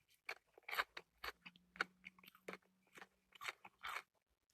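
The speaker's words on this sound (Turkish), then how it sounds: "Nasıl kıtır kıtır yapıyor." Crunchy food being bitten and chewed up close, a run of sharp, crisp crunches in an uneven rhythm, quiet and alone with no talking.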